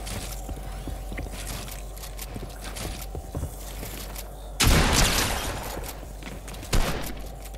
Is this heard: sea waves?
no